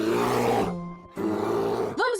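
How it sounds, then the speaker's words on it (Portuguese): A bear lets out two deep, rumbling roars separated by a short pause, loud and close, followed by a brief higher-pitched sound at the end. "Este é o som do urso!"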